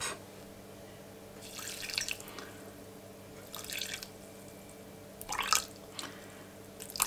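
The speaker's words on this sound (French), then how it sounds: "Ensuite, je vais mettre 100 g d'eau." About 100 g of water is poured in while cooking a vegetarian courgette curry, coming as several short, close splashy trickles and drips with quiet gaps between them.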